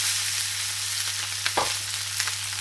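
Crispy rice crust frying in oil in a pan gives a steady, close sizzle throughout, with a few sharp scraping or tapping knocks from stirring along the way and no talk.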